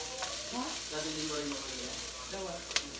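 Pork frying in a pan for Bicol Express, a steady close sizzle running throughout with a sharp clink near the end and faint talk partly underneath.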